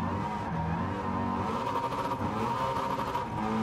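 A Gran Turismo 7 car with a 351 engine swap making 1,408 horsepower revs hard, its loud, steady engine roar rising and holding with shifting pitch and no talk over it.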